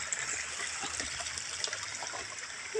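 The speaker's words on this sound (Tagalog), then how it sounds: "Sapa." Water in a stream flowing steadily, a close, continuous rushing and trickling wash with no break.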